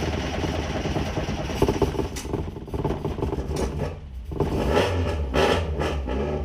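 A car engine cranks and fires into life after being jump-started with an AUTOWIT jump starter, then runs with a loud, steady mid-range roar that swells briefly near the end.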